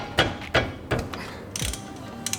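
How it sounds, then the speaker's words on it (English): A 14mm socket on a ratchet clicks through several quick strokes while undoing the bottom brake caliper pin on a Mazda MX-5, close and fairly loud with short pauses between the bursts. "get your 14mm socket and remove or undo the bottom"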